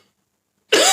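A single loud cough bursts out after near silence, harsh and close, from someone troubled by volcanic ash smell in the air.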